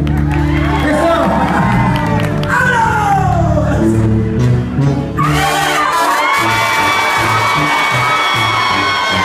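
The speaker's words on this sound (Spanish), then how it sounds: "Un aplauso para Chavita" Crowd at a concert in Yakima, Washington cheering and shouting loudly over the band's music, with whoops and high yells rising sharply near the end.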